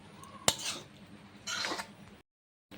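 A spoon clinks and scrapes against a pan while jackfruit and shrimp curry is stirred, a sharp metallic knock followed by two bursts of scraping, then silence.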